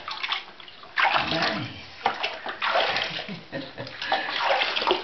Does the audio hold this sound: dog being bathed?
yes